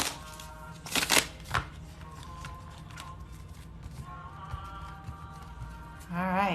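Tarot cards being shuffled by hand, with a few crisp riffling bursts near the start and softer handling after, over a steady low hum and faint background music.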